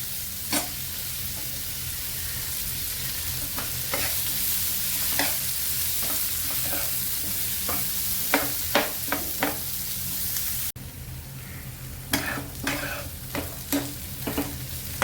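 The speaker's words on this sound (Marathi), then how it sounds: "मोठ्या गॅसवरतीच भाजी आपल्याला फ्राय करून घ्यायची" Capsicum, tomato and onion fry over a high flame, giving a constant close sizzle. Sharp spatula scrapes and clacks of stirring are heard throughout, and the hiss drops slightly toward the end.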